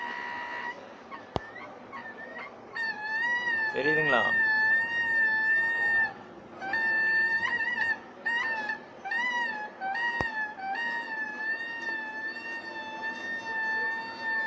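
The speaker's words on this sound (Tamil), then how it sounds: "இது நான் ஒர்க் பண்ணுற ஸ்கூலில் இந்த பைப் பார்த்தீங்கன்னா சத்தம் வந்துகிட்டே இருக்குது" A water pipe at a school gives off a wavering, siren-like honking cry that rises, falls and holds in long wails, with someone talking briefly over it and a couple of sharp knocks.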